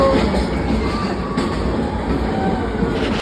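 Inside a moving train travelling through Kashmir toward Katra, wheels rumble loudly and continuously on the tracks, with a constant clatter and a faint metallic squeal that cuts off abruptly at the end.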